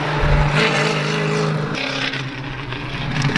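A 1985 Oldsmobile Cutlass runs an autocross course laid out on an abandoned racetrack, its engine droning loudly and revving as it works through the course, heard close and steady with no talk.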